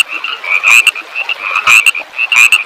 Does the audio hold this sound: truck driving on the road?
no